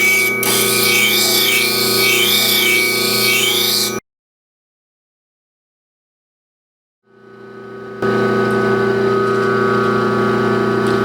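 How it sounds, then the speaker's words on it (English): A bench grinder with a 180 grit wheel grinding the bevel of a blade makes a loud, steady whirring grind. It cuts off abruptly into silence for a few seconds, then fades back in and carries on, with no speech. "So that's why I'm using the 180 grit wheel."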